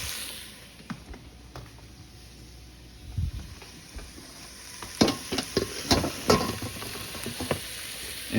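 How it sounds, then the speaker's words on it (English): Pork roast going into a Dutch oven, crackling and sizzling softly with scattered pops and scraping bursts that grow busier toward the end, heard up close with no talking. "the next step is going to be adding that pork roast to our"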